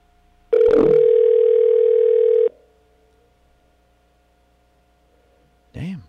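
An unanswered telephone call gives one long, steady ringback tone of about two seconds. Quiet follows, then a short chirp at the very end.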